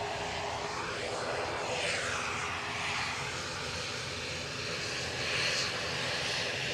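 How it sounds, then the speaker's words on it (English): A British Airways Airbus A320neo departs Edinburgh, a steady jet roar with sweeping tones rising and falling as it passes, moderately loud and continuous with no talk. "British Airways A320neo off to, you guessed it, Heathrow"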